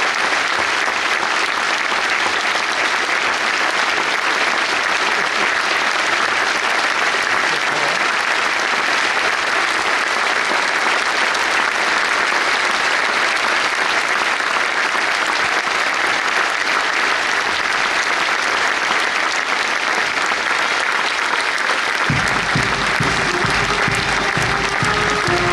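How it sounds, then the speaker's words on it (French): Loud, sustained applause from a large arena crowd at the Cocarde d'Or course camarguaise in Arles, a dense unbroken roar of clapping lasting the whole stretch, with a faint tonal sound entering near the end. "observer une minute d'applaudissement pour notre ami Kevin"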